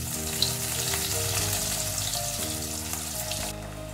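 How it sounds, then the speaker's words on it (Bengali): Breaded bhetki fish fry pieces sizzle in hot oil in a pan after being eased in with a spatula, a steady close crackle with bright spitting pops over a faint background hum. "এবার আমি খুন্তির সাহায্যে আস্তে করে ফিশ ফ্রাইগুলো তেলের মধ্যে ছেড়ে দিচ্ছি।"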